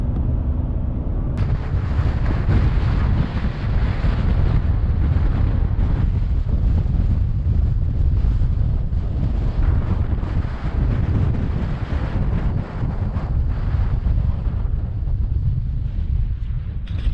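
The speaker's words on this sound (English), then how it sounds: "Super windy out here. This would be a good test to see how this mic works in the wind." Strong wind buffets a microphone outdoors at the Grand Canyon, a loud continuous low rumble with gusty swells across the whole stretch and no speech.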